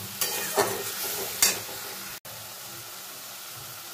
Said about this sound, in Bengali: মশলাটা আমার প্রায় কষানো হয়ে গেছে।